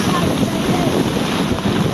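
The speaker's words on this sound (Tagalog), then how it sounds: "Yan, lakas na ng hangin o. Lalo pang lumakas." Strong typhoon wind roaring and buffeting the microphone on a city boulevard in Tondo, Manila, loud and gusty throughout, with a rumbling low-end blast.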